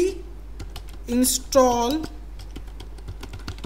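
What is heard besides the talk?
typing a terminal command on a computer keyboard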